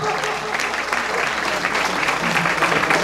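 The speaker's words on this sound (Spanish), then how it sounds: "Un fuerte aplauso para el hijo de Tishkun." Audience applause at a school inauguration for three new classrooms in a village, a steady, dense clapping from a crowd lasting the whole clip, with faint voices underneath.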